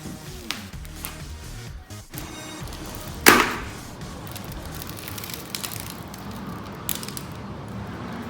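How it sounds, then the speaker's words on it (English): A sharp crack of splintering wood cuts through quiet handling noises as the bottom board of a rotten wooden container is ripped off, followed by scraping and small rattles. "So unfortunately, I just did rip some of the bottom board off."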